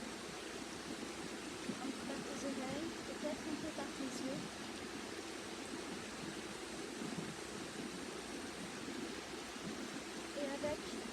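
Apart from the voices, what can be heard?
sound of a river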